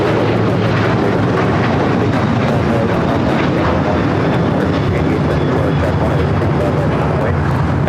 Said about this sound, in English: That is Alaska Airlines 1418 taking off to Guadalajara on the 737-800